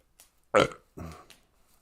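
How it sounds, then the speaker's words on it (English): A person lets out a short, throaty burp up close, in two or three quick bursts, in an otherwise quiet room. "I didn't mean to burp."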